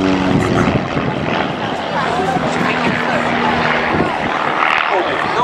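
Propeller aerobatic aircraft of the Trig Team drone loudly at Biggin Hill Airshow as they fly an opposition manoeuvre toward each other, a steady engine buzz under a commentator's public-address voice.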